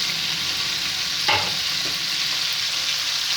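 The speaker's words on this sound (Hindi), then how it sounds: "अब इसमें मसाले का पेस्ट ऐड करते हैं।" Masala paste for aloo gosht fries in a pan with a steady, even sizzle, and a single scrape of stirring cuts in briefly near the middle; no voice is heard.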